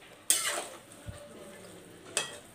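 Plain flour mixture stirred in a pan, with two sharp scraping strokes against a steady low sizzle and one soft knock between them; no talking.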